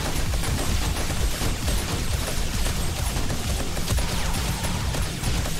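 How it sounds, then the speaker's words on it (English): Three armor-piercing shotguns blasting away at a succubus during a horde fight in 7 Days to Die, a dense, loud, continuous barrage of overlapping booms with no gaps, no talking over it. "Three armor-piercing shotguns are freaking hitting her as well right now."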